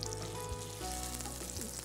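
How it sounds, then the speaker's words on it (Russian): A duck breast lies skin side down in a hot frying pan, giving a steady, close, continuous sizzle of rendering fat with no talk. "Теперь ставлю сковороду, включаю, разогреваю и сразу же выкладываю утиную грудку кожей вниз."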